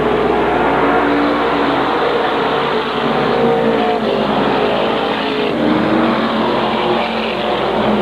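SK modified race cars roar around the Waterford Speedbowl oval, one with a red-hot glowing left front hub, their engines a constant loud drone with cars passing under a race commentator's voice.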